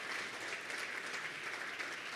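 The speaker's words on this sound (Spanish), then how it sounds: "Denle un fuerte aplauso al Señor." Church congregation applauding during a worship service, a steady, dense wash of clapping that holds level for the whole stretch without voices breaking through.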